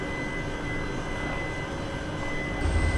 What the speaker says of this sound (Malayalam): അപ്പോൾ ഇതൊരു ഫ്ലൈറ്റ് കയറി വരുന്നു.